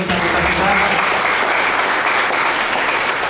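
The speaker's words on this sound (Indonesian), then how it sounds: "semua kita beri tepuk tangan dulu buat teman-teman disabilitas kita" An audience at a North Jakarta musical poetry training event applauds loudly and continuously, a dense, close burst of clapping held at full strength throughout.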